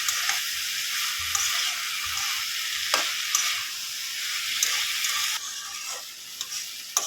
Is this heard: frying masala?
yes